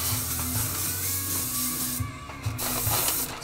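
Aerosol spray paint, a Hot Rod Sparkle Spectrum glitter finish, hisses steadily onto a Tamiya TT-02 Subaru Impreza rally RC car body, close and continuous with slight surges, alone without talk.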